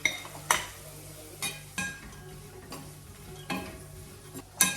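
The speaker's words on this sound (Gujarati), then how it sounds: "આ સિંગદાણા શેકી ગયા છે હવે અંદર એડ કરી દઈએ." Roasted peanuts go into a pan of batata poha and are stirred in, with a spoon clinking and scraping against the pan in irregular taps and a soft sizzle underneath, all fairly quiet.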